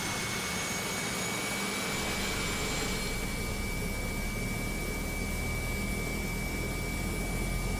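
Turboprop engine spooling up during a start in the Prepar3D flight simulator, a steady broadband roar with a faint high whine, the tone shifting as it rises and settles, continuous with no talking.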